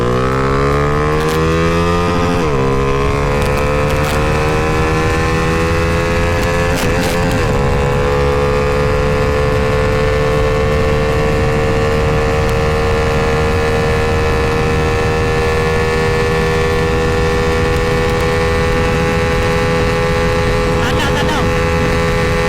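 A modified Honda Dream motorcycle engine revs loud and close and holds a high, steady whine, with a brief drop and cut-out near the start before it climbs again.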